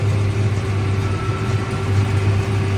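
A John Deere 6215R tractor running a baler, its engine held at a steady, loud, close hum with a strong low drone and no pauses.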